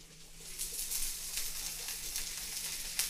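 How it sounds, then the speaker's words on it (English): Food sizzles and fries steadily in a hot pan during a stir-fry with black fungus, a constant crackling hiss with small spitting pops, close and fairly loud, with no voices. "Can you guys hear Marky over the sizzling stuff?"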